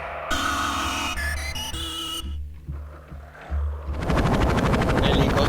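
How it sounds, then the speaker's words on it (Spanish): Synthesized helicopter effect from an Alesis Micron synthesizer, a loud, dense electronic texture with pulsing low chops and shifting tones, ending in a rapid, noisy rotor-like flutter. "Helicópteros, sonidos de terror."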